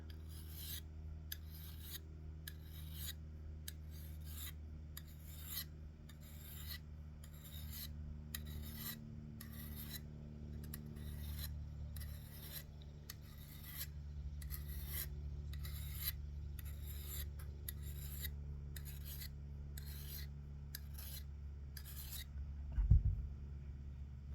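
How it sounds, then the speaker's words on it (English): A file rasping along the edge of a knife blade in steady, evenly spaced strokes, about twenty passes in a quiet room, ending with a brief clunk. "so I'm filing this way, I'll flip around"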